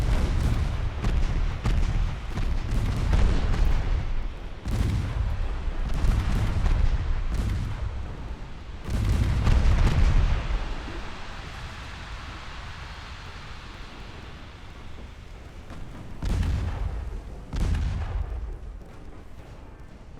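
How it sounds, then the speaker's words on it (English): Salvos from 7-inch naval guns in a video game naval battle, a series of heavy booming blasts with rumbling tails, loud and repeated at irregular intervals, with no talking. "And that's salvo."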